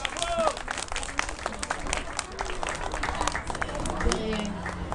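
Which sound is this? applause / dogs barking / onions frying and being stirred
applause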